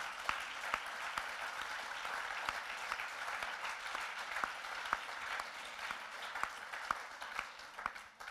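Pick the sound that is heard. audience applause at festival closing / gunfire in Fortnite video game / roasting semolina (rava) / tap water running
audience applause at festival closing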